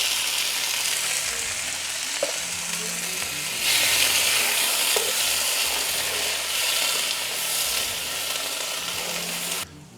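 Tomato puree and a can of chopped tomatoes sizzling in a pot for beef cheek ragu, a dense continuous hiss that swells midway and then cuts off sharply near the end, close and steady.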